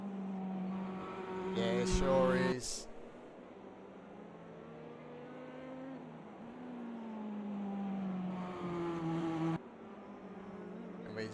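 Race car engines droning and shifting pitch during a Spa two-hour endurance race in a racing video game, a steady mid-level roar with a rising rev near the start, while someone briefly speaks.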